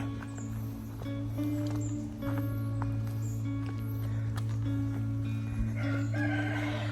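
A rooster crows at a moderate distance over a steady outdoor background hum in the mountains of Sagada, Philippines, with scattered rustling and faint clucking nearby.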